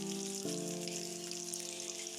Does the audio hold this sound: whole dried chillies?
yes